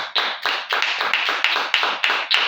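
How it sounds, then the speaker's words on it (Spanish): Rhythmic clapping from a church congregation during a Sunday service, sharp regular claps in an even beat, close and fairly loud throughout the short stretch. "Denle un aplauso al Señor."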